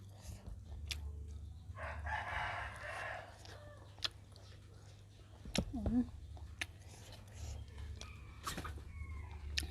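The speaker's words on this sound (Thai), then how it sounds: "ไก่" A rooster crows faintly in the distance, one drawn-out call over a quiet outdoor background broken by scattered small clicks and taps.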